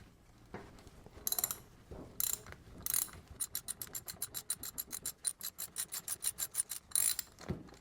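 A ratchet wrench clicks away at the bowl nut on a Honda GX340 Keihin carburetor, starting with a few slow short bursts, then running into a fast, even train of close, crisp clicks with no talk.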